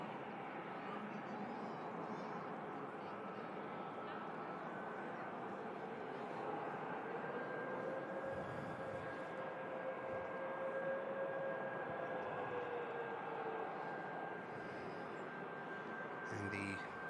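A Ryanair Boeing 737 MAX 8200 arrives at Manchester Airport with a steady, distant jet engine roar that drifts slightly in pitch and holds for the whole stretch, under faint background noise.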